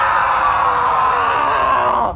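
In a comedy sketch a man lets out a loud, sustained scream of pain, one long strained cry that cuts off abruptly at the end.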